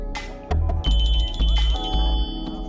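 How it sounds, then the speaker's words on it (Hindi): A mobile phone rings in a closed coffee shop, a bright repeating electronic ringtone with a steady pulsing melody over a low background hum. "बज रहा है आपका फोन।"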